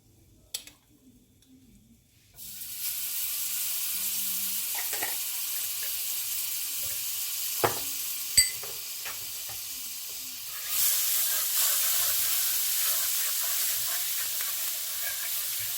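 Garlic hits a hot pan that already holds curry and starts sizzling suddenly as a loud, steady hiss. The hiss swells further partway through and is broken by a few utensil clicks, close by, with no voices.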